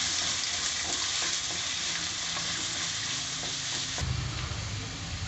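Onions and ingredients frying in a pan for a Tamil chicken kulambu, a steady dense sizzle with occasional stirring clatter, loud and close, no talking.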